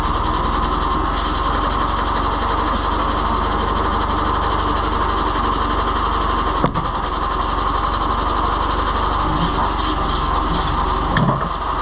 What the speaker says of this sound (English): I'll put the tractor in position.